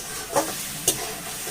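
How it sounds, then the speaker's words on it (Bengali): A spice paste fries and sizzles in a pan for a vegetarian taro-root curry, with a steady hiss broken by two sharp scraping strokes of a spoon stirring it, close up and with no talk. "আমি আর একটু কিছুক্ষণ নেড়ে নেবো।"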